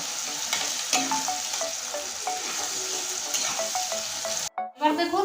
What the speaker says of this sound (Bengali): লবণ দিয়ে দিব দু চামচের মতো সুন্দর করে নেড়ে নেব